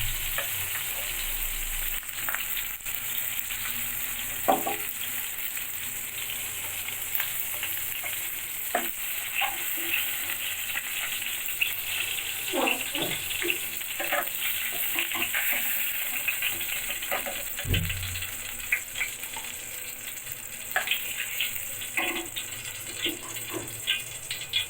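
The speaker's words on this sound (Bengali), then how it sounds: "এই তেলের মধ্যে বন্ধুরা আমি আলু আর ফুলকপি ভেজে নেব।" Potatoes and cauliflower fry in hot oil for a rohu fish curry, giving a steady, close sizzle for the whole stretch, broken by occasional scraping stir clicks and light clatter, with no talk.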